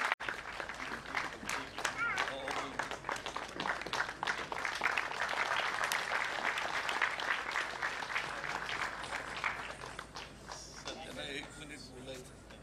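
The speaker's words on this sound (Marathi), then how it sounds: "जरा जोरदार टाळ्या सरांसाठी होऊ दे." An audience at a felicitation ceremony for a world-record storytelling achievement applauds warmly, with dense clapping building and holding for several seconds, then thinning out as a voice begins speaking.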